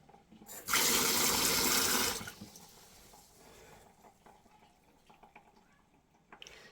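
Tap water gushes loudly for about a second and a half from a tap fitted with a Philips AWP3704 filter, then cuts off, leaving faint drips and small clicks in a quiet room.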